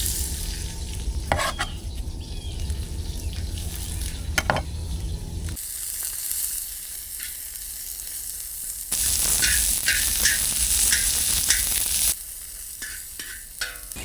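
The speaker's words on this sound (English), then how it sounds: "I use a little bit of olive oil, and then we just throw our onions in there." Chopped onions sizzle in hot olive oil for street tacos, a steady crackling fry broken by scraping stirs, the sizzle swelling louder and brighter partway through before easing back.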